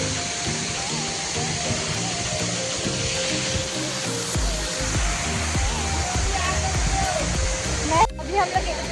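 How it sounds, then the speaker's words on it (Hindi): A waterfall at Keshkal sends up a steady, full broadband roar that fills the scene, with indistinct voices faintly mixed in. "हो गया, देख लिया झरना।"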